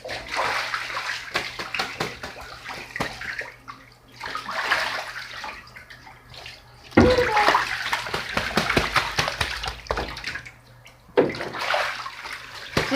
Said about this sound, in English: She's having so much fun flapping her wings in the water.